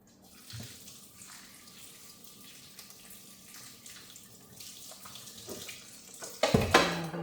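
Water runs from a tap over soaked red lentils as they are rinsed, a steady soft hiss of flowing water that turns louder and splashier toward the end.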